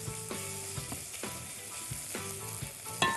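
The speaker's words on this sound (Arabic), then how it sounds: "انزل عليها وهي بتتشوح بالتوابل بتاعتي" Onions sauté with spices in a frying pan, a steady soft sizzle with occasional stirring scrapes and clicks, close and fairly quiet, with no talking.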